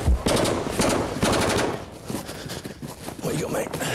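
Machine gun fire rattles in rapid, continuous bursts during rooftop combat, loud and close, with voices talking over the gunfire.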